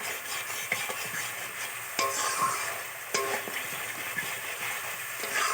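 Spice paste fries in oil with a steady close sizzle while a utensil stirs it, giving several sharp scraping knocks against the pan at irregular intervals.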